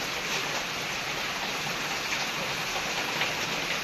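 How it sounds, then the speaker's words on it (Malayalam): Heavy rain pours down steadily on the way to a family temple, a dense, even and loud hiss with no breaks and no voices. "നമ്മൾ അമ്പലത്തിൽ പോകാൻ വേണ്ടി ഇറങ്ങിയപ്പോഴാണ് നല്ല അടിപൊളി മഴ പെയ്ത്"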